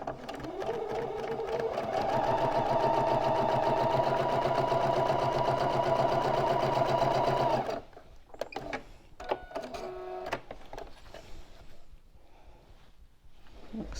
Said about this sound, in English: I'm going to sew from that V to that V.